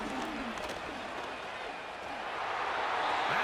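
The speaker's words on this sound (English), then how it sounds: "What about this crowd getting even louder before 3rd and 10?" Crowd noise in Madden NFL 25 during a Browns vs. Broncos game rises before a third-and-ten play, a broad roar of cheering that builds louder toward the end.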